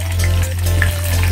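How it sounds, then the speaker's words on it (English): Shallots frying in very hot oil for a Sri Lankan brinjal pickle, a short burst of loud, close, hissing sizzle over a steady low hum. "oil is too much hot, so very carefully I have to fry this onion"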